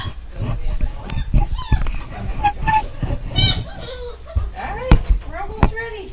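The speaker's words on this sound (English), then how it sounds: "Turning sound on so you can hear puppies." Puppies at a gruel feeding let out high yelps, squeals and whines, close and busy and overlapping, while people talk nearby.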